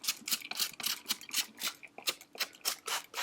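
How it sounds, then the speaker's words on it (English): Quick bursts of hissing spray from a spray bottle misting vermiculite, about a dozen in rapid rhythmic succession, close by and fairly soft, with no voices. "I'm just going to give it a bit more of a spray anyway."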